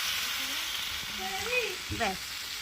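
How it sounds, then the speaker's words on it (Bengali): A little water goes into spiced cauliflower curry cooking over a wood-fired stove, setting off a steady hiss and sizzle, with faint voices or tones rising briefly in the background. "এখন দিয়ে দেবো এর মধ্যে সামান্য পরিমাণে জল"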